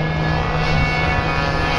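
A steady, fairly loud drone of an H9 Dual Ace model airplane flying overhead at an outdoor flying field, constant buzzing engine tone without a break.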